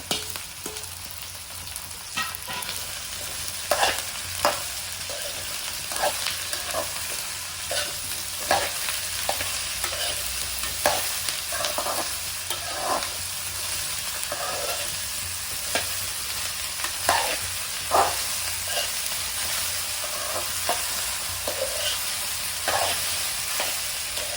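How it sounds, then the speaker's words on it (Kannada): Cut okra frying in an open pan for a coastal-style stir-fry gives a continuous close sizzle, broken by repeated scrapes and taps of a spatula as it is stirred, with no talking. "ಸ್ವಲ್ಪ ಫ್ರೈ ಆಗಲಿ ಅಂತ ಫ್ರೈ ಮಾಡ್ಕೊಳ್ತಾ ಇದ್ದೇವೆ"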